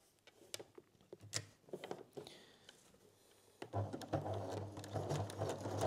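A sewing machine stitches a zigzag seam on a bralette: soft clicks and handling noises at first, then a steady, close whirring run of the machine through the second half.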